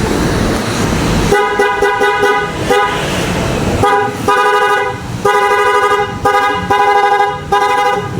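An aftermarket PIA horn fitted to a Honda Click motorcycle gives a loud, bright toot, starting after a stretch of engine noise and repeating in several bursts of varying length, close up.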